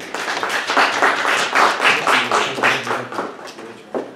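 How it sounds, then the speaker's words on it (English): An audience claps for a speaker at the close of a talk, a dense close burst of hand claps that thins out over a few seconds. "let's give him a warm round of applause"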